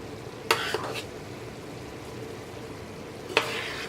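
Cooked quinoa mixed into a pan of pork, with a couple of sharp spoon-on-pan scrapes and clanks at the start and again near the end over a soft, steady background hiss.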